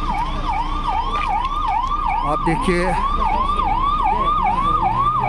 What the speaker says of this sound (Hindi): आप देखिए ये एम्बुलेंस आए, इसको जो है वो क्लियर कर दिया एम्बुलेंस को।